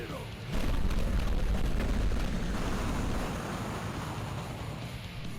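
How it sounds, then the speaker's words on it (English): A door being blown open by an explosion in the video game Undead Knights: a sudden deep boom followed by a sustained roaring rumble that slowly fades, loud and close, with no talk over it. "that's how the door was intended to be opened, with an explosion"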